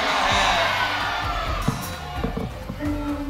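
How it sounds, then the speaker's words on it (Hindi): A television game show studio audience cheers loudly with whoops and a broad wash of noise at the start, then settles into scattered shouts and claps that thin out toward the end. "बहुत सारी तालियां."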